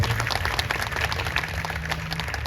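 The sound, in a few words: audience applause for the MLA at kirtan festival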